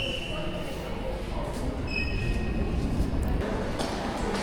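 Mountain railway train pulling in at a station near Indochina's highest peak in Vietnam, a rumbling approach with faint metallic squeals and clinks, heard under someone talking nearby.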